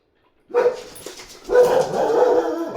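A dog barks and yips up close, a short burst followed by a longer run of excited, whining barks after a brief pause, with no talking.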